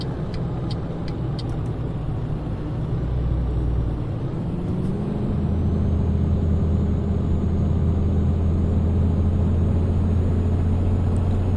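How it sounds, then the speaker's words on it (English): Steady engine drone and road rumble of a truck driving through traffic in Euro Truck Simulator 2, with the pitch stepping up partway through and a few faint clicks early on, continuous with no talk. "Seems to be a lot of traffic on the road, as it would be nowadays."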